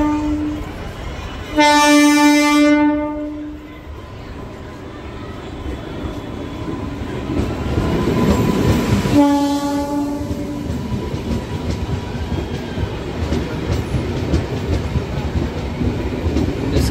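A Kashipur MEMU train stands at a station and sounds two loud horn blasts, one near the start and a shorter one near the middle. Rumbling engine and rail noise carry on steadily beneath and between them.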